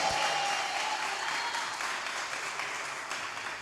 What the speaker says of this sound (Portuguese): Aplaude com vontade, minha gente.